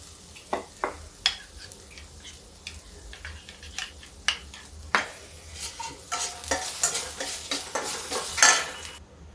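Onions cook in a kadhai alongside mung dal vegetable preparation, a spoon scraping and clacking in an irregular rhythm over a quiet sizzle that builds toward the end, close and without speech.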